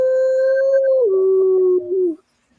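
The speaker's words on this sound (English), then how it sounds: "You get the dog started." A dog lets out a single long, loud, close howl that holds steady, slides lower and wavers before cutting off abruptly, with no other sound around it.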